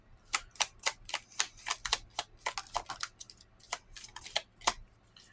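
Tarot cards riffle and slap together in quick, crisp bursts, a steady run of papery snaps close by with slight pauses between strokes and no talking.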